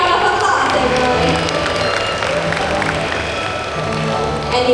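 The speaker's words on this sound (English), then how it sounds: "Give yourself a big round of applause, everyone." An audience at a bird show fills the space with steady, diffuse applause and crowd noise that runs throughout, fairly loud, with no clear speech over it.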